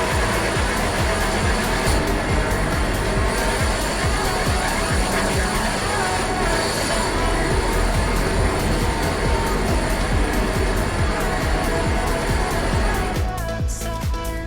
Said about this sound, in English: this set of Class 158s is so loud